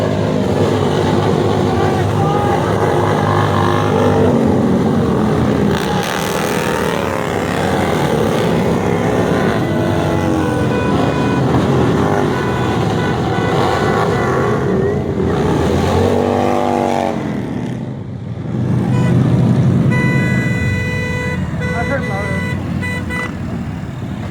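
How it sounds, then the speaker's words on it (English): A group of motorcycles roars past at a roadside Black Lives Matter and Trump supporter counter-protest in October 2020. The loud, continuous engine noise swells and fades as they go by, with people talking over it. "Okay, here comes the motorcycles."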